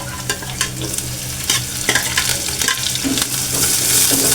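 Green chillies hitting a hot pan of vegetables, loud close sizzling with repeated stirring scrapes and clinks building over a few seconds.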